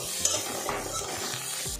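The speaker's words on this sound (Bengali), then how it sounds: "মশলাটা ভালো করে আমি মিক্স করে নেব।" A spatula stirs red chili powder and spice masala frying in a pan, a steady sizzle with soft scraping strokes, close and continuous with no talk.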